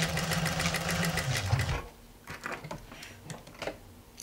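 A sewing machine runs a diagonal seam across a patchwork block, whirring steadily up close for about two seconds before stopping, followed by quieter clicks and fabric handling.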